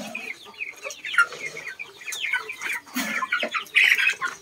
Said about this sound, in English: And the other chicken is over here.